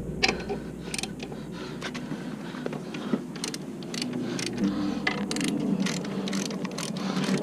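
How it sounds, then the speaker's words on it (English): A torque wrench ratchets as it tightens the blade bolts on a Honda lawn mower, giving a string of close, repeated clicks and creaks over a low steady hum. "I'm going to grab a torque wrench, and we're going to tighten those blade bolts to 40 foot-pounds as per Honda spec."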